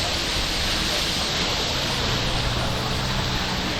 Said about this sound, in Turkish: Böylesine şelale akan bir yer.